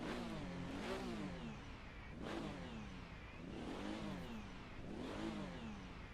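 A Corvette C8R mod in the Assetto Corsa racing game, its engine revving up repeatedly in four rising, falling sweeps, steady and fairly quiet.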